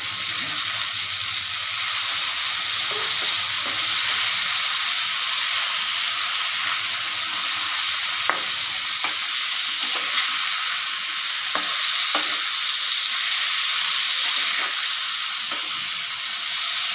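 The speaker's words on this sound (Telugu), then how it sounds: "టమాటాలు కానీ పచ్చిమిరపకాయలు ఇవన్నీ కూడా బాగా మగ్గిన దాకా ఫ్రై చేసుకోవాలి." Tomatoes and green chillies frying in a pan for a coriander chutney hiss with a constant, loud sizzle, while occasional sharp spatula taps and scrapes punctuate the second half.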